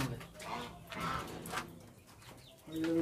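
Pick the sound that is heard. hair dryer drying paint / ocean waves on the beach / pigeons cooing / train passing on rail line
pigeons cooing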